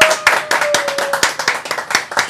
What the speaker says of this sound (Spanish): Un aplauso, ¿verdad?